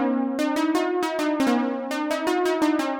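A bright synth lead plays a steady run of short, rhythmic notes over a held low tone, its tone brightening and dulling as a filter sweeps.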